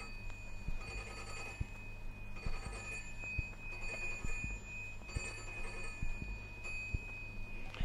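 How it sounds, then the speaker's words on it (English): A phone rings in a steady repeating pattern of electronic trills, moderately loud, with no talking over it. "just about to be interrupted by the phone"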